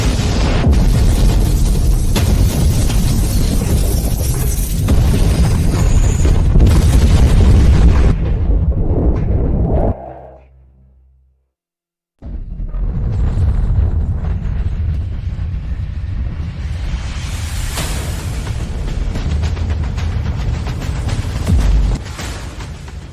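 Animated explosion effect: a loud, sustained roaring blast that cuts abruptly to near silence for about two seconds, then a second heavy rumbling burst follows and rolls on.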